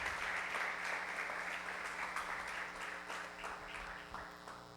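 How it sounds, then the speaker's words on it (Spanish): A church congregation applauds to welcome newcomers, steady massed clapping from a room full of people that stays loud and even before easing off gradually toward the end. "Entonces démosle un aplauso a los nuevos"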